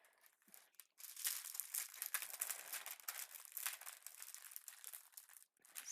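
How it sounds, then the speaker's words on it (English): Diamond painting packaging crinkles steadily and close-up, a dense, continuous plastic rustle that starts after a brief quiet moment and carries on almost without pause, fairly soft overall. "Sorry about the crinkling."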